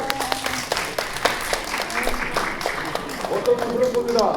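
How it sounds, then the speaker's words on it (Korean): Audience applause at a health lecture on muscle care, moderate clapping with uneven bursts and a voice talking beneath it. "박수"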